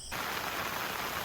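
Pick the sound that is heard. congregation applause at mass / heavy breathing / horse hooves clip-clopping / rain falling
rain falling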